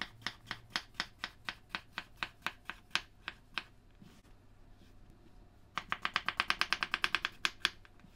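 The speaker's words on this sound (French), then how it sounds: "On va ensuite couper tout ça en fines rondelles." A knife chops cucumbers into thin rounds for homemade tzatziki, a quick run of about a dozen crisp, evenly spaced taps on a board, a short lull, then a faster burst of close, sharp cuts.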